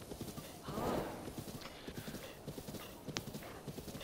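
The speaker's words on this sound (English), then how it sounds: "Come on, horsey." A horse gallops in Zelda Breath of the Wild, rapid rhythmic hoofbeats pounding steadily throughout with a brief whoosh and a short high ping, moderately faint and with no speech.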